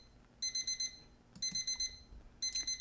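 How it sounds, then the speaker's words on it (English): An electronic alarm clock in a video game beeps in rapid bursts of four to five high, clear tones, in three separate groups, loud over a quiet background. "Thank goodness for my alarm."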